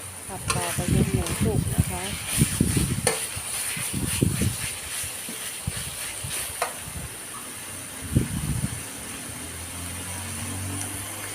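Meat stir-frying in a pan with steady sizzling and intermittent scraping stirs, while a voice talks over it now and then.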